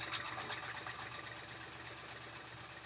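A sewing machine stitches a label onto a jean quilt with a steady, quiet, rapid mechanical whir and regular needle ticks, running without pause.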